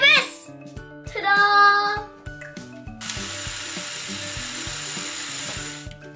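A toy construction vehicle gives off rattling, ratchet-like clicks and a whirring mechanical buzz as its bolts are pulled out, loud and close, with a voice mixed in over the toy noises.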